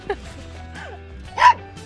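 Small dog on a hike near Goat Lake giving a few short, high yips and barks outdoors, one sharper louder burst near the end, with faint background noise.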